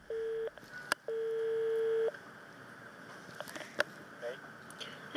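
A phone call to a seller of fake Chinese food rings out with repeated electronic ringback tones, two long steady beeps over a faint line hiss, then quieter clicks and line noise.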